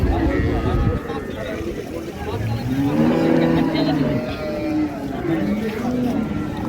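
Several long, low moos from dairy cows and calves rise and fall over a few seconds at Raniganj cattle market in Dinajpur, mixed with voices and general crowd chatter in the background.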